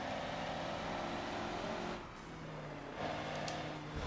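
A car engine in the racing game Forza Motorsport 7 drones and revs steadily as the car drives, with a brief dip in pitch midway before it climbs again. It plays on its own without talk.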